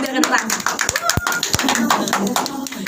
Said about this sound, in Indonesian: tepuk tangannya dong biar kedengeran